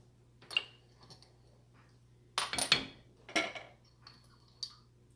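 A utensil stirring sauce in a pot, giving a handful of scattered, quiet metallic clinks and knocks against the pot's sides, with soft gaps between them and no talking.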